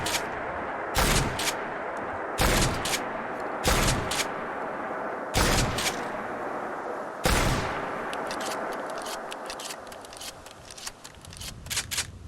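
A pump-action shotgun in the game Fallout 4 fires five sharp, booming blasts spaced a second or two apart, with clacking pump and reload sounds between them and no talking.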